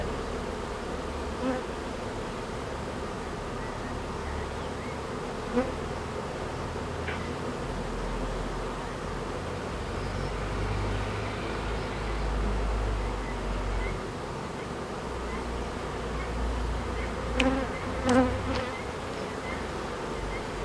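Honey bees hum in a steady, faint, continuous buzz, with a few individual insects droning a little closer now and then over soft background noise.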